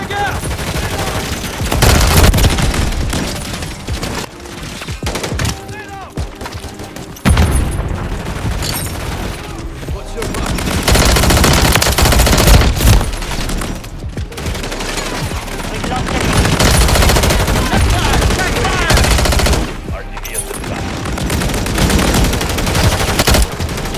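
An aerial gunship killstreak in Modern Warfare III multiplayer fires loud, sustained bursts of heavy gunfire with booming impacts, nearly continuous, and a voice talks over parts of it.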